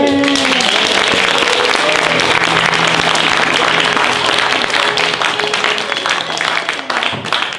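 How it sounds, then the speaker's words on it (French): Dense, steady audience applause of many hands clapping, loud and continuous from start to finish with a slight fade near the end. "On applaudit bien fort les navets."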